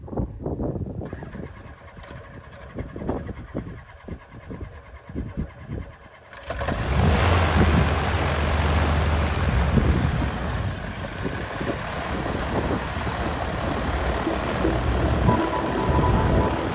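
A light aircraft at Petit Airfield cranks with uneven clicks and coughs, then catches at about six seconds into a loud, steady engine drone that holds close to the end.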